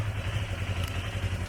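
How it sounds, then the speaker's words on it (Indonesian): A Yamaha MT25 motorcycle engine running right after being started, a steady low throbbing idle, loud and close, with no talk. "Ini gue nyalain motor,"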